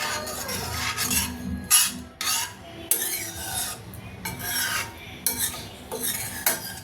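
A spoon scraping and stirring ground spices and garam masala in a pan for dum aloo, a series of close gritty rasping strokes with short pauses between them.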